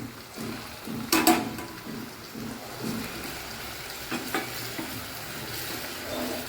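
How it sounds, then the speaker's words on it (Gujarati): Ginger chili paste sautés in a pan, a soft sizzle with a few louder scraping stirs and clatters at intervals. "આદુ મરચાંની પેસ્ટને થોડી સંતળાવા દઈશું."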